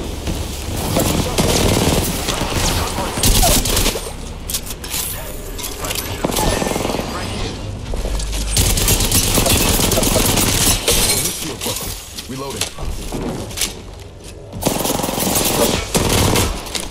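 Rapid, sustained automatic gunfire in a round of Apex Legends, loud and close, with bursts overlapping and brief pauses between volleys, a voice speaking over it at times.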